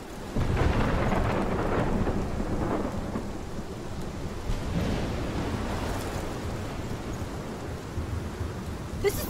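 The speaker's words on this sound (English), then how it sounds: "This is my storm." A thunderstorm in the video game Life is Strange rumbles continuously with heavy rain and rolling thunder, loud and steady throughout.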